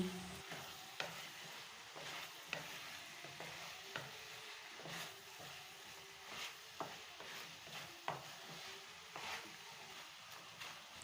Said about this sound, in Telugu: అలాగే ఇందులోకి రెండు రెమ్మల కరివేపాకు వేసుకుని ఫ్రై చేసుకోవాలండి